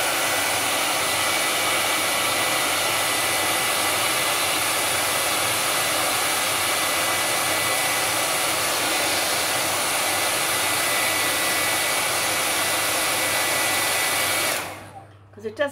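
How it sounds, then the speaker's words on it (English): A hair dryer stands in for a heat tool to dry primer on a custom craft order. It blows as a loud, steady, close whoosh with a constant hum for about fifteen seconds, then cuts off abruptly, followed by a few faint clicks. "I don't have a heat tool, I'm using my dryer"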